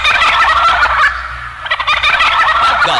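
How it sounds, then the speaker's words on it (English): A loud radio turkey gobble sound effect for a Los Angeles station promotion, two rapid rattling gobble bursts separated by a short pause. "The great gobble of the Big Boss Bird sounds like this."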